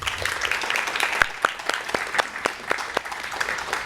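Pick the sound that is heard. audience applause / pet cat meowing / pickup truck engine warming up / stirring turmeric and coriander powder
audience applause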